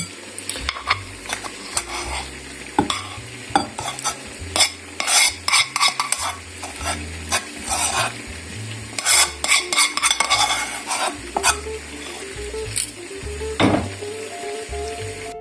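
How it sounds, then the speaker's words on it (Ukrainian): Rice stirred into a stuffed-pepper filling in a roasting pan, with a spoon scraping and clattering against the pan in irregular close bursts, then short pauses between strokes; no talking. "все це ретельно перемішую"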